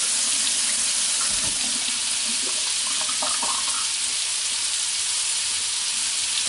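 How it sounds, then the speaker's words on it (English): A running kitchen tap pours a steady, loud hiss of water while hands are rinsed under it, with a few soft splashes and knocks partway through, no talking. "I'm gonna rinse my hands off here."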